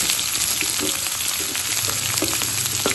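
Bread sizzling and frying in a hot pan until brown, a steady close crackle with scattered pops and light scraping, no voices over it.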